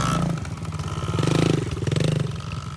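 A Yamaha TTR 110 motorcycle engine runs during break-in, a close, steady single-cylinder putter with rapid rhythmic pulses and mild rises in revs, mechanical clatter over it and no voices.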